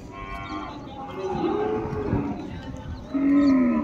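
Cattle moo at a busy rural livestock market: a long low lowing call, then a louder moo near the end, over a steady crowd murmur.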